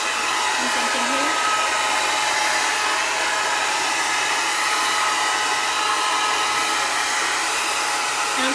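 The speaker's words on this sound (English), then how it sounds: "I'm kind of being intentional with where I'm putting the blow dryer" A handheld blow dryer drying a short pixie haircut, blowing loudly and continuously for the whole stretch with a steady broadband whoosh and faint shifts as it moves around the head.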